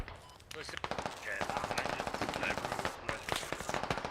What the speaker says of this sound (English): That's a very bad machine gunner.